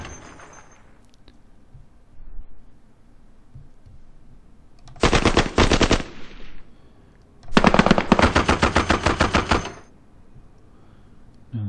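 Assault weapon fire in the Squad Battles Soviet-Afghan War game, two long rapid automatic bursts of loud rattling shots separated by a short pause, with faint quiet background between them.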